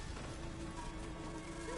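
A horse's hooves clip-clop faintly in Horizon Forbidden West, a brief, soft rhythm of steps under a low in-game ambience.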